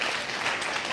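Live audience applauding the DJ at an event, a steady wash of clapping, fairly loud and continuous for a moment.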